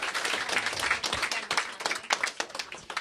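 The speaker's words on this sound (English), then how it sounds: "Let's give him an applause." A fan audience claps for Weird Al Yankovic at a WZZO radio event, a lively round of many hands with sharp individual claps standing out, fairly close and unbroken by talk.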